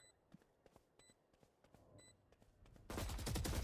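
Valorant gunfire rattles in rapid, soft bursts while enemies are shot, followed by a denser, louder stretch of in-game noise near the end.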